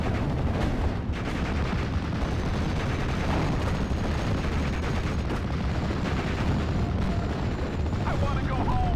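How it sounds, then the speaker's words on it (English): A Cromwell tank fires in the Steel Division: Normandy 44 battle game, on the Omaha map, amid a dense, unbroken roar of booming cannon shots and gunfire. Someone talks over the noise. "You see the Cromwell still firing away"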